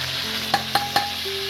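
Spice paste goes into chicken frying for biryani, a steady sizzle broken by three quick scraping stirs of a spoon against the pot, with no talk.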